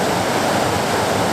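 Rapids on the Black River at Agate Rapids rush in a steady, loud, unbroken roar of churning water that fills the whole moment with dense broadband noise and no voices.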